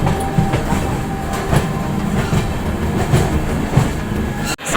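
An Indian Railways train pulls into New Delhi station with a steady rolling rumble and regular clickety-clack of wheels over rail joints, heard close from on board.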